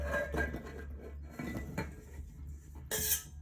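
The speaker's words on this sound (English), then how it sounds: "I'm gonna empty my berries into my pan here." Fresh strawberries tumbling and clinking into a metal pan for a strawberry cobbler, several soft bursts of rattling contact with a sharper, brighter clatter near the end, close and fairly quiet.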